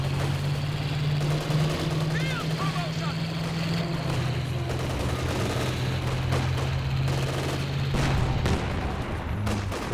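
A steady, dense din of battle in Company of Heroes 2: gunfire and explosions from units in a 1v1 match, with a low engine drone running underneath the whole time.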